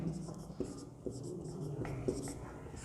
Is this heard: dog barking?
no